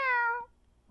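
A single cat meow, clear and close, lasting about half a second and then trailing into near silence, with a faint second chirp right at the end.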